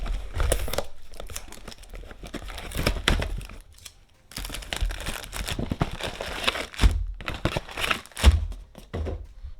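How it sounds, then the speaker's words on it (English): Close-up crinkling and tearing of plastic packaging around Frameworks Orc miniatures comes in bursts of crumpling and ripping with thunks and short pauses. "let's rip these things open"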